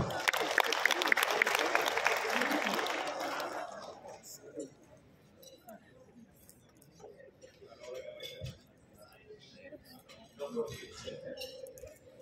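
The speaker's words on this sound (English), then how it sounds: "let's give a big round of applause for our talented performers" Crowd applause at a school academy launch event for a high school cultural dance troupe, a burst of clapping that lasts a few seconds and fades, followed by quiet room noise and faint scattered sounds.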